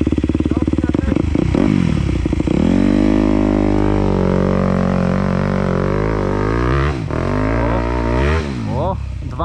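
Motocross bike ridden through hard enduro terrain, its engine revving and bogging as the clutch is slipped, loud and close, with rising and falling engine pitch and clattering throughout.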